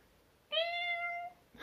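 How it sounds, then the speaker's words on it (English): A cat gives one clear, close meow lasting most of a second, and a second meow starts right at the end, with no talk over it. "that's my cat right here."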